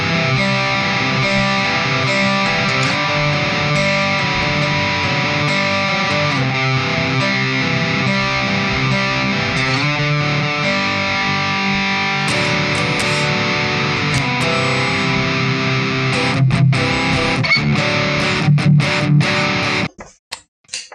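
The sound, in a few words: electric guitar through Deplike mobile amp simulator app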